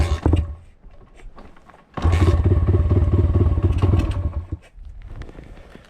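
A dirt bike engine restarts with a short burst, then settles into a loud, steady running rumble close by for a few seconds before cutting back down.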